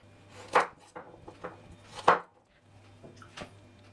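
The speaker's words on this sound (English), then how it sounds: "First we cut the carrots." Knife chopping carrots on a board: a few separate sharp cuts, two of them louder, spaced irregularly, close and clear with a low steady hum behind and no voices.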